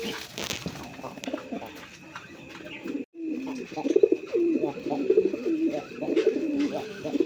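Pigeons coo repeatedly in a coop of large Bengali Rasgolla pigeons, low throaty calls rolling on and off against a steady background hiss, with a brief silent gap partway through.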